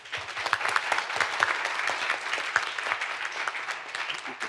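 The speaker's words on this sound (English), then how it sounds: "I would like everyone to applaud to your administrators and your teachers" Students in a high school applaud together in a steady, dense burst of clapping that carries evenly from start to finish with no talking over it.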